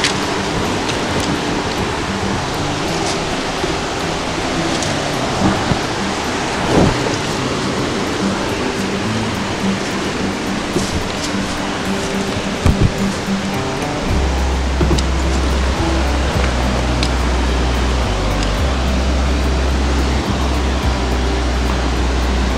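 A waterfall running strongly in early-season flow, heard as a steady broadband rush of falling water, loud and continuous throughout with a few brief knocks and a low rumble joining near the end.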